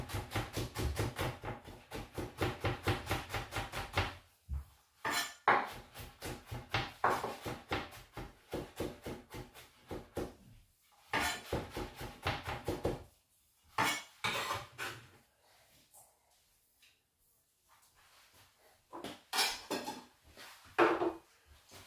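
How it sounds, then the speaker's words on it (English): Garlic chopped with a knife on a board: quick runs of sharp, rhythmic knife taps in bursts, broken by short pauses, close and fairly quiet. "So with the garlic, I'm going to chop it up."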